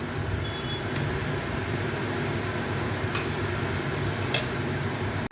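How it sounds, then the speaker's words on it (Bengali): Pea lentil fritters (motor daler bora) frying in hot oil, a continuous close sizzle and crackle with a few brief sharper pops. "এই মটর ডালের বড়া করছি।"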